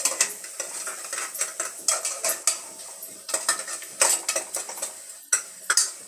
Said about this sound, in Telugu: ఇప్పుడు ఇవి కూడా ఇందులో వేసేసి బాగా కలిపి అన్నీ మిక్స్ చేసి